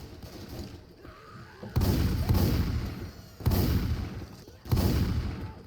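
Shotgun blasts in the video game Left 4 Dead 2, three heavy booming shots spaced over a few seconds, each a loud burst with a short decaying tail over low background game noise.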